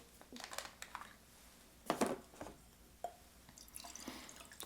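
Mackmyra Swedish single malt whisky being poured from a small bottle, giving faint, close trickling and dripping with a few light glassy clinks, quiet and without voices.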